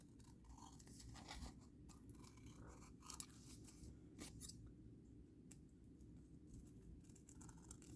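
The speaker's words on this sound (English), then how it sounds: "you can pretty much cut some of the excess off." Scissors snip excess paper off a book-page pocket, a series of soft, close cuts and crunches along the edge in a quiet room.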